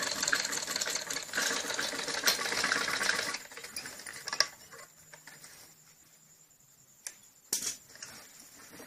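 A sewing machine runs steadily for about three seconds, double stitching the edge of a salwar's fabric panel, then stops and leaves faint handling taps and rustles of cloth.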